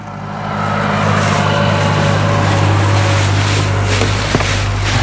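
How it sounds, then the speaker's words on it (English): A loud, steady tractor engine rumble with a deep low drone holds for several seconds as it passes close by, with no talking. "Loud tractor passing by."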